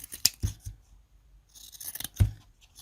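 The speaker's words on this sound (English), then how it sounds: "I'm going to cut just some strips first." Scissors snip strips from white felt in a few sharp, close crunching cuts separated by pauses, with soft rustling of the fabric between them and no talking.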